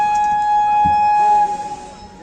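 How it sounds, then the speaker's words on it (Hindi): Passenger train pulling out of a station on the Jasidih to Asansol run, a long steady horn or whistle tone sounding loud and continuous before fading into rumbling rail noise. "सिग्नल हो चुका है, ट्रेन हमारी यहाँ से खुल चुकी है"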